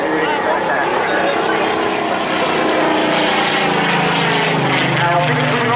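Spitfire and Hurricane propeller warplanes of the Battle of Britain Memorial Flight at the Sunderland airshow, a loud continuous droning roar that holds close throughout, with commentary voices under it.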